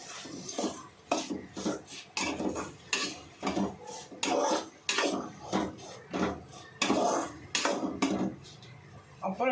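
A utensil scrapes and clinks rhythmically against a cooking pan as ginger garlic paste is stirred in, with repeated close metallic strokes at a steady pace.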